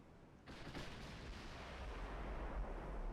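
Battleship naval gunfire in the video game Ultimate Admiral: Dreadnoughts, a heavy boom breaking out after a quiet start, then a sustained rumbling roll of cannon fire that swells and lingers.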